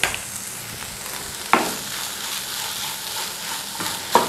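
Chili garlic sauce is stirred in a frying pan over a steady, hissing sizzle, with two sharper scrapes of the spoon standing out, close and fairly loud, with no voice.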